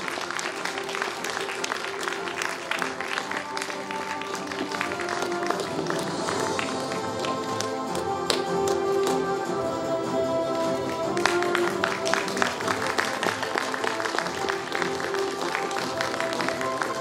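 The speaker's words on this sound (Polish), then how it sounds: "Ogromne brawa." An audience at the Miss Warsaw 2022 beauty pageant applauds loudly and continuously, the clapping swelling in the middle and staying dense throughout.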